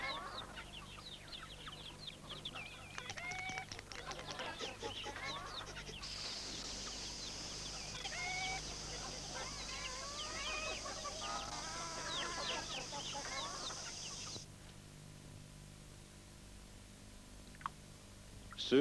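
Several chickens cluck and squawk continuously at close range, with a high steady tone joining midway, then the flock fades to quiet.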